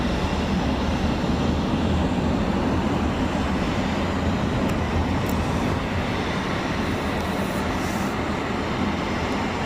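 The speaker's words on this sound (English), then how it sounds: "It's the unmistakable sound of a Boeing 747" Steady, loud broadband jet roar of Boeing 747 airliner engines at an airfield, a continuous rumbling wash with no breaks, heavy in the low end and sustained throughout.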